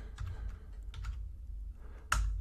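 Computer keyboard keys pressed for Blender 3D modeling shortcuts: a few separate close clicks and clacks spaced apart over low room hum, ending with one sharper, louder keystroke, with no talking.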